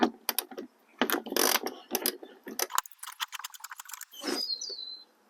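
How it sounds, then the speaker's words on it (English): A 10mm socket ratchet working a bumper bolt on a Honda Odyssey, with quick bursts of close clicking and rattling ratchet strokes broken by short pauses. "there's a bolt right here that needs to come out, and use a 10mm socket"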